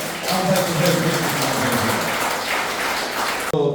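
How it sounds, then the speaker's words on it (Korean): Audience applause in a lecture hall at a special lecture, a broad steady wash of clapping that holds for several seconds before cutting off abruptly near the end, with faint voices underneath. "박수로서 감사의 인사드리겠습니다."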